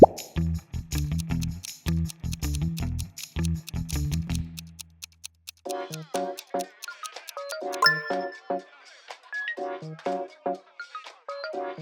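Nokia smartphone ringtones play alone as bright, chiming electronic melodies, first a repeated tune of short low-pitched notes, then a faster sequence of higher pings and tinkling tones.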